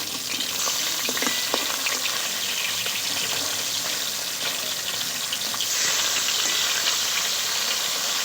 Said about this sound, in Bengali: এদিকে আমার মাছগুলো ভাজা হতে থাক